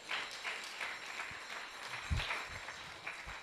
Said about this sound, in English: let's give them a very, very, very big applause as well